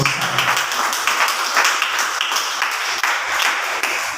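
Continuous applause from a congregation at a fasting prayer service, dense and steady throughout, with no voices standing out above the clapping.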